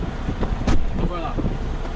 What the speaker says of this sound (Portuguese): Tá uma ventania aqui que vocês não acreditam.